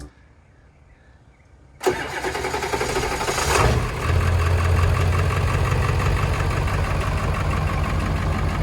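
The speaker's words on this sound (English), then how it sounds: "you guys can hear how fast this starter still works." A 7.3 Powerstroke diesel with a high-torque starter, after two weeks unstarted, cranks in a fast whir for a couple of seconds, then catches and settles into a loud, steady idle rumble.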